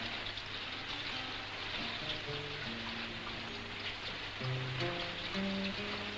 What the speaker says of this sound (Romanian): Ce ploaie!